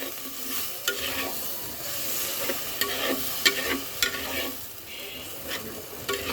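Spiced masala for a taro-leaf (kochu shak) dish sautés in a pan with a little water, a soft continuous sizzle broken by repeated scraping stirs of a spoon against the pan.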